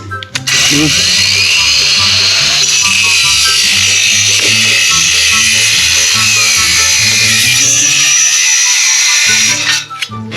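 An electric clipper trims nails, its motor giving off a steady, close, high-pitched buzz with a whining hum for most of the clip before it briefly cuts out near the end. Voices can be heard over it.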